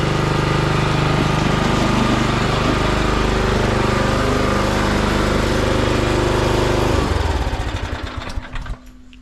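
A Weibang Virtue 53 SSD lawn mower engine runs loud and steady close by, then cuts out and winds down to silence near the end.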